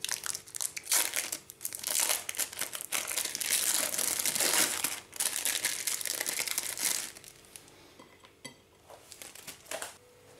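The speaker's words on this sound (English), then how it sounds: "Unwrap your cheese slice." Plastic wrapping crinkles and crumples loudly as a cheese slice is unwrapped, with a continuous burst of close rustling that fades to sparser crackles near the end.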